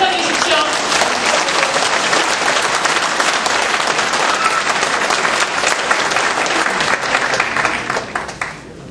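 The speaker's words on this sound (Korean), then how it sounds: "박수 한번 쳐주십시오." A large crowd at a political party's joint campaign rally in Daegu claps loudly and continuously, dense and even for about eight seconds before fading off at the end.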